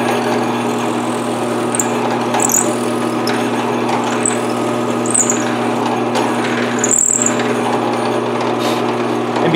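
A steady, droning drill whine runs continuously with a constant hum as a quarter-inch bit bores through a template for a Les Paul guitar build, faint higher squeaks breaking through now and then.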